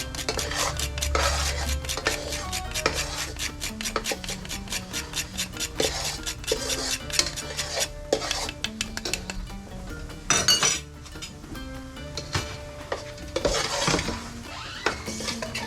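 A spoon stirring a pot of spiced mixture with cinnamon and nutmeg, repeated metallic scrapes and clinks against the pot in a steady rhythm, with a few louder clatters, no talking.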